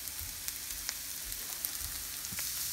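Onions with grated bitter gourd skin, flesh and seeds sauté in a pan, giving a steady bright sizzle with faint scattered pops and light stirring taps throughout.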